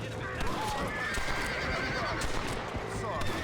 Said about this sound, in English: I accidentally shot the horse.